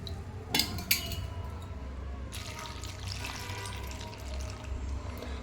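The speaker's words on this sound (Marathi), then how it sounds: "तो मी भरून पाणी घेते" A small glass being filled with water in a home kitchen: two sharp clinks of glass, then a steady, soft pour of running water, close by and without speech.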